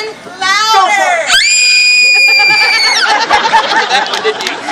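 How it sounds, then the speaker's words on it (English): A loud, high, sustained scream rises and holds in a storytelling scene, with a squealing lead-in and a messy burst of shrill vocal noise after it. "I screamed again, even louder."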